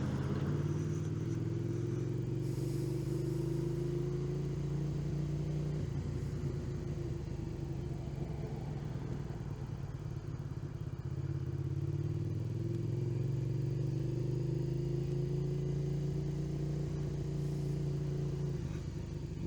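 A motorcycle engine drones steadily throughout a Tuesday work commute, running low in pitch with slow rises and falls as the rider accelerates and eases off. The front tire is low on air, and no voices are heard.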